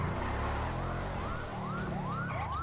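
An ambulance siren in the game GTA V wails in rising sweeps, one after another, over a loud, steady rumble of driving noise, with no voices.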